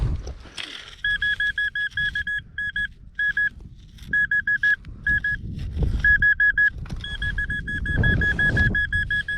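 A metal detector gives a strong target signal in a farm field during a silver-coin hunt, sounding repeated rapid, high electronic beeps in short bursts, close and clear over rustling ground noise.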